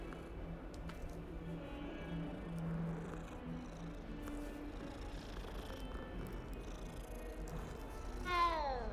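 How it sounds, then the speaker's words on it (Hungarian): Cat in the Hogwarts Legacy video game, a soft continuous purr under faint game ambience, ending in a brief rising chirp near the close. "Még egy cicó."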